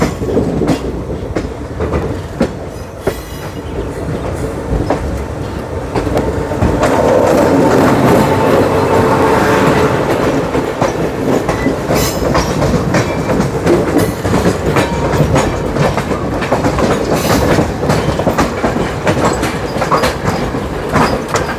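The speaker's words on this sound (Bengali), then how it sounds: "এই মুহূর্তে আমাদের সঙ্গে দেখা হয়ে যাবে কোটা পাটনা 13240 কোটা পাটনা এক্সপ্রেসের সাথে" The Kota Patna Express, train 13240, rumbles past with loud, continuous rolling noise and a rhythmic clickety-clack of wheels over rail joints, sustained at close range.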